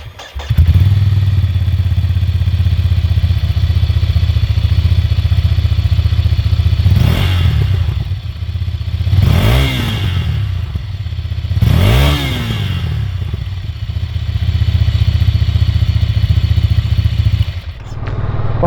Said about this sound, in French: quand on prend de la vitesse, le bruit du vent commence à surpasser le bruit de la mécanique.